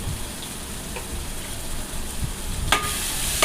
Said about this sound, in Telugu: బాగా వేయించుకోవాలండి